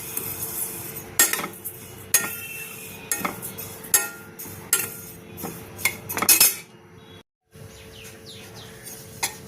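Sesame seeds and peanuts are stirred in a pan roasting over a medium flame, with a spoon scraping and clinking against the metal in irregular close strokes and faint birdsong in the background.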